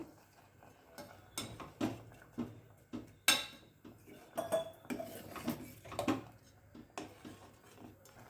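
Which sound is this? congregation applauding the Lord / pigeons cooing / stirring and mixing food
stirring and mixing food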